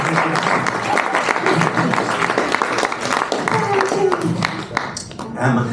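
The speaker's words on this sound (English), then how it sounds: "A round of applause by ladies and gentlemen." Applause from a theatre audience after a classic magic trick, continuous clapping with a brief voice rising over it partway through, tapering off near the end.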